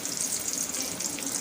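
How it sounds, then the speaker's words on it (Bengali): Sliced pointed gourd (potol) fries in a pan, giving a steady, soft crackling sizzle throughout a brief moment, with no talking. "পটল ভাজাটা বসিয়ে দিলাম, এখন লাল লাল করে ভেজে নিব।"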